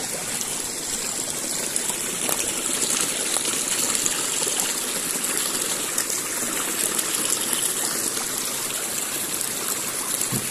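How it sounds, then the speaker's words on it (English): Several streams in the Shropshire Hills rush and trickle in a continuous, fairly close wash of flowing water, steady throughout with no voices. "we're right by the stream. Several streams actually."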